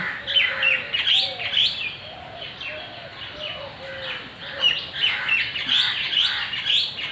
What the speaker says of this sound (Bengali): একদম ছোট্ট ছোট্ট পাখিগুলো আসে, ওরাও এসে খায়